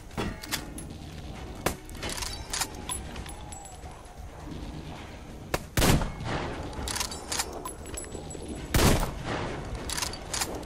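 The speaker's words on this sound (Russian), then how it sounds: "Не, нормально, два выстрела в тело." Sniper rifle shots ring out in the video game Metro Exodus: a few sharp, loud cracks, with two strongest near the middle and end, set among quieter clicks, rattles and game ambience.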